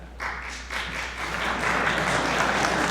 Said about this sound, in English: Bruce is doing a round of applause now anyways.